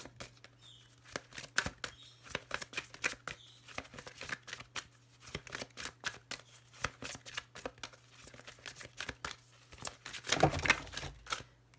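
Tarot cards being shuffled for a reading, heard as a faint, steady run of soft papery flicks and clicks that thickens briefly near the end, with no voices.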